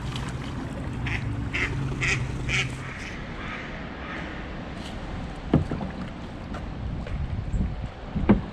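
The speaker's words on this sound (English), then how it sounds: "See how long we can follow these ducks." Ducks quacking on a river heard from a kayak, scattered calls over steady wind and water noise, with paddle splashes and knocks later on.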